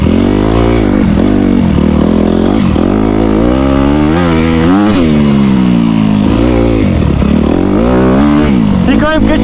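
A motocross bike engine drones steadily with rising and falling revs as it rides over dirt terrain, close and loud throughout.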